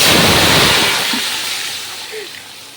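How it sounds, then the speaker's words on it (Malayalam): Water poured into a biryani pot, a broad rushing splash that starts strong and slowly thins out over a few seconds, close, with a faint voice briefly underneath. "വെള്ളം ഒഴിക്കുക."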